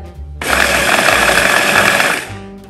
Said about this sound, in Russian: И теперь все это перебиваем через блендер.